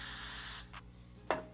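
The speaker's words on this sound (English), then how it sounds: "I'm gonna take some Got2b spray." Got2b hairspray hisses out of the can in one steady, close burst of about half a second, followed by quiet and a brief sharp click-like sound near the end.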